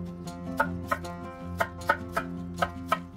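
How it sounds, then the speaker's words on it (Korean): A knife dices half a peeled, cored pear into cubes, giving a steady run of about ten crisp chopping taps against a cutting board, close and fairly quiet, with no talking. "깍둑 썰어주세요."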